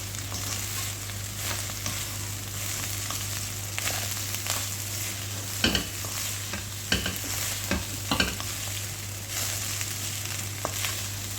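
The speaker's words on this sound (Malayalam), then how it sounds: "നമ്മൾ സ്റ്റീമിലിട്ട ചോറുണ്ടല്ലോ അത് ഇതിലോട്ട് കോരിയിടുക ഒന്ന് ഇളക്കി കൊടുക്കുക" Steamed rice stirred into a pan for Irani rice: a continuous close sizzle with repeated spoon scrapes against the pan, in irregular bursts, with no talk.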